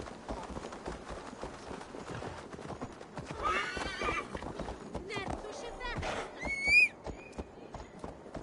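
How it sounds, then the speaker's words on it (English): Horse hooves clip-clop at a run with a neigh and whinny near the end, set in the video game Assassin's Creed Valhalla, over a busy layer of game music and effects. "Stop that horse!"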